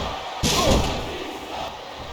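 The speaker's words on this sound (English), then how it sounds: "what a vicious chair shot!" A steel chair crashes down in a professional wrestling table, ladder and chair match, one loud sudden slam followed by arena crowd noise.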